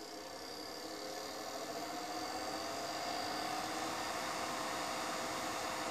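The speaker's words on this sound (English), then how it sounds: "the lathe starts up and will get itself up to 800 revs a minute" A Record Power Coronet Herald wood lathe motor hums steadily with a faint whine that rises gradually as it spins up to 800 rpm, quiet and continuous with no other sounds.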